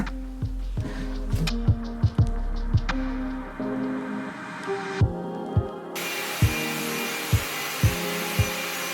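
A power polisher dry polishing a concrete countertop: a steady motor hum and whine that shifts pitch midway, with regular thumping pulses roughly every half second throughout.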